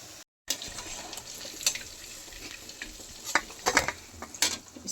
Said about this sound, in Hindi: तो इस तरह से हम सारी तल लेंगे गुजिया